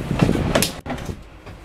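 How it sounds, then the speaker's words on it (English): Storage drawers pulled out and latched shut on a 2014 Forest River Vengeance 320A fifth wheel toy hauler: a short sliding rumble, a sharp clack, then a softer slide, close and fairly loud. "And simply pull out like any other drawers."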